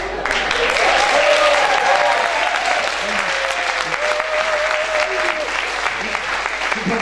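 Audience applause at a lecture on decolonisation in Africa and Europe, a steady dense wash of clapping held for the whole stretch, with a speaker's voice running over it.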